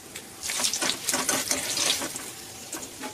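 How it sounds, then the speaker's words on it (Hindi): Dried potato sticks frying in hot oil in small batches, a steady close sizzling hiss with crackling bursts that rise and fall, no talking. "हम थोड़ी थोड़ी तेल में डाल के फ्राई करेंगे।"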